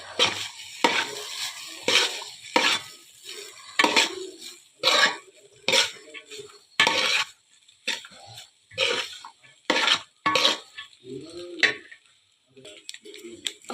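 A spatula stirs fried rice in a pan, making about a dozen rhythmic scrapes and clanks against the metal with a soft sizzle underneath.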